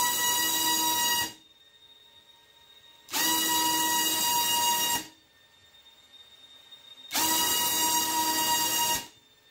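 An electric motor driven by a Freedom Spec ESC screams up in three separate two-second throttle punches, each a loud high-pitched whine with near-silent gaps between them.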